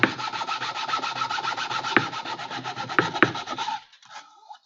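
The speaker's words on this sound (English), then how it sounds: "And basically just sand away." Steady back-and-forth rasping of 180-grit sandpaper on a surface, close and loud with an even scrubbing rhythm and a few sharper scrapes, then stopping abruptly near the end.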